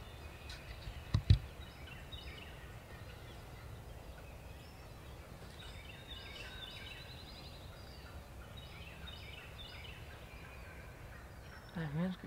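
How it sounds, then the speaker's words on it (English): Distant wild turkey gobblers gobble faintly across an open outdoor space, with one louder nearby call early on and another near the end. "There's three gobblers right there."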